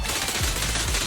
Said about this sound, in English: Firecrackers.